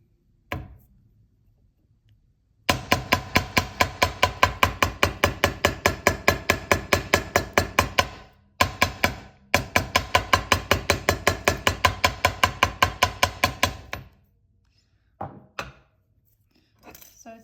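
Rapid, steady hammer taps on jewelry wire in two long bursts separated by a short pause, close and fairly loud, with a few isolated knocks at the start and end.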